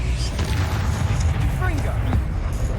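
Confringo blasting spell explosions in the video game Hogwarts Legacy, a dense rumbling boom with crackling debris running steadily throughout, loud and continuous, with game voices murmuring underneath.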